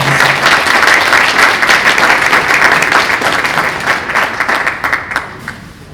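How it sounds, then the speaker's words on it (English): A conference audience breaks into loud, full applause that stays strong before thinning and tapering off toward the end. "round of applause"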